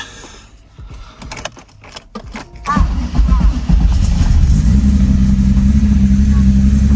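A Porsche 964 Turbo engine idles roughly, a steady low rumble that swells in after a few seconds of handling noise and then drones on close and loud, with a voice speaking briefly early on.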